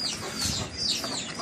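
Chickens and chicks clucking and chirping steadily through the clip, several birds close by in a farmyard while grain is scattered for the chicks; busy overlapping calls with no talk.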